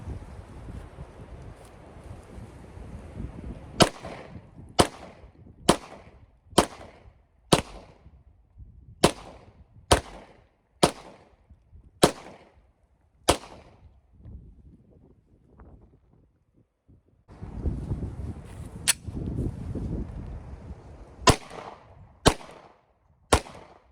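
Single pistol shots from a .40 S&W handgun loaded with Federal Premium 180-grain Hydra-Shok jacketed hollow points crack outdoors one at a time, about a dozen sharp reports with wind noise between them.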